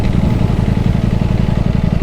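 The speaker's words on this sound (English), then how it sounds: "you can hear the fan on the radiator is already on" A Ducati Panigale V4S's V4 engine idles steadily in hot weather in Singapore with its radiator fan running. The close, loud, even low rumble pulses evenly without a break.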